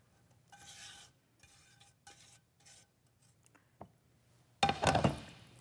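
Flour, sugar and chocolate being stirred together in a bowl, a few soft scraping strokes with quiet gaps, ending in a louder, denser burst of mixing.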